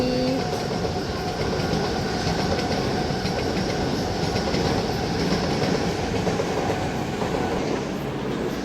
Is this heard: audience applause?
no